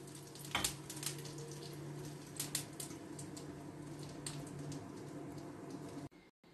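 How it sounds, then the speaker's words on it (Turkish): Schnitzels sizzle in hot oil with a steady crackling hiss, broken by a few louder pops and clicks, heard close up without talking. "Kızaran şinitzellerimizi içerisine peçete koyduğumuz tabağımıza alıyoruz."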